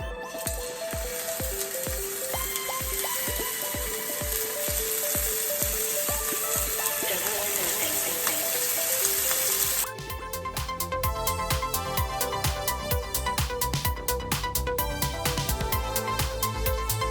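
Scallops searing in a smoking-hot pan, a loud steady sizzle that runs the whole time, then shifts into a sharper crackling spatter partway through, with no talking.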